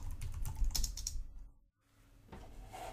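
Rapid clicking of keys on a computer keyboard while code is typed, close and clear, stopping briefly in near silence before a few more keystrokes resume.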